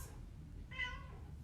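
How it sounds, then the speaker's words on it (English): A single faint meow from a house cat, short and rising, heard alone against a quiet room hum. "He's my cat. He's very talkative."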